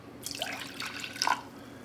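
Water poured into a cooking pot alongside clam juice and white wine, a brief splashing trickle with a few drips, fairly quiet and close, no talking.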